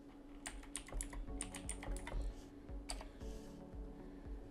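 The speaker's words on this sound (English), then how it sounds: "we're going to go ahead and type PGBlitz and make sure that this works" A computer keyboard clatters with a quick run of keystrokes as a command is typed, crisp clicks in irregular bursts against a faint background hum.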